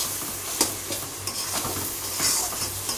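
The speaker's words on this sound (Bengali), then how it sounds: "দেখো মশলা কষানো হচ্ছে" Spice paste sizzles and fries in a hot pan as masala is sautéed, a steady close crackle broken by a few scrapes and knocks of a spoon stirring against the metal.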